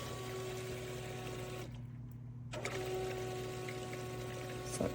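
COWSAR countertop nugget ice maker hums and gurgles as its pump draws water back up, a faint steady whir with a brief drop to near silence midway before the pumping resumes.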